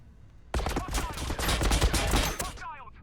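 Rapid gunfire in Warhammer 40,000: Battlesector during a multiplayer battle of Astra Militarum against Tau, a sudden dense burst of overlapping shots and impacts that lasts about two seconds and then cuts off to quiet.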